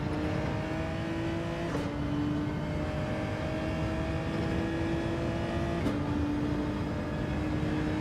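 Race car engine in Gran Turismo 7 driving the Genesis, a steady loud engine whine holding pitch, with two sharp gear shifts where the tone drops and climbs again.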